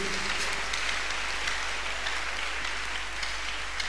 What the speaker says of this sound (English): Shall we clap our hands unto this great God of the choosing?